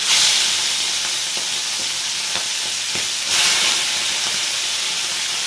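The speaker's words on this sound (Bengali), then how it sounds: "তো আমি প্রথমে চিংড়ি মাছটা ভেজে নেব।" Prawns shallow-frying lightly in a pan, with a steady broadband sizzle and hiss throughout and a few soft clicks of stirring, no voices.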